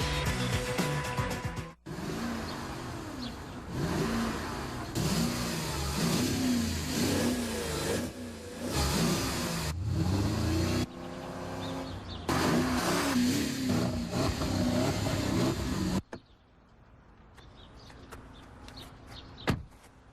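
A 450 horsepower Porsche Cayenne Turbo revs and accelerates hard through repeated loud engine surges and shifts, then cuts to a quieter stretch with birdsong in the background.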